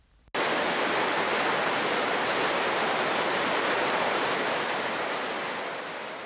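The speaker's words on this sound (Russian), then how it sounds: "завершает путешествие водопад Виктория, расположенный на границе между Замбией и Зимбабве." Victoria Falls on the border of Zambia and Zimbabwe, a vast waterfall giving a dense, continuous roar that starts abruptly and stays loud and even, easing slightly toward the end, with no voices.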